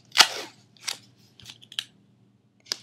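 Scissors snipping white duct tape at close range, several crisp separate cuts spaced unevenly, with the first the loudest and the rest lighter snips and clicks in a quiet room.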